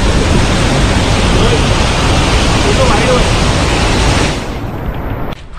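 A rain-fed waterfall in the Sahyadri hills roars as a loud, continuous broadband rush close by, filling the whole scene and dropping slightly in level near the end.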